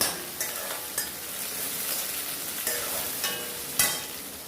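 Kallumma mussels fry in hot oil in a pan with a continuous close sizzle, broken by a few sharp clinks and scrapes of a spoon stirring against the pan; no voices.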